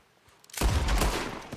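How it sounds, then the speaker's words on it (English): Gunfire from Red Dead Redemption 2 Online during an escort mission: after a quiet start, a sudden loud volley of overlapping shots erupts and rumbles on for about a second. "Okay, I guess I'm shooting him."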